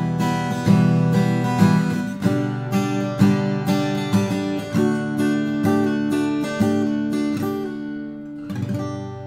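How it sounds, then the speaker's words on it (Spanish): Steel-string acoustic guitar strummed up close, a bright, metallic ring of chords in a steady rhythm with no talking. "Y una acústica suena así."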